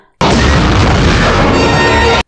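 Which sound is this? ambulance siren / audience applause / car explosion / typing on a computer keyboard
car explosion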